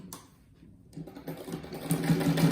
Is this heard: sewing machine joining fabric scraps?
yes